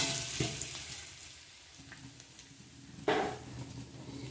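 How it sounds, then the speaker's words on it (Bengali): Tempering spices fry in hot oil in a pan for pumpkin-leaf chorchori, giving a steady close sizzle with two sharp bursts of crackle, alone without talk. "ফোড়নটা একটু ভাজা হয়ে গেছে"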